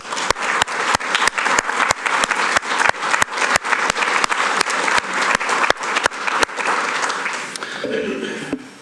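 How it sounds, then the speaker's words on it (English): Hearty applause from a room full of attendees at a mayor's service awards ceremony, a dense wash of clapping punctuated by a steady, loud rhythmic beat of nearby claps, fading out near the end. "give them a hearty round of applause"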